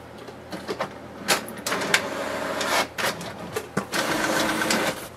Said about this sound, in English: click on the print button and wait for the printer to print the page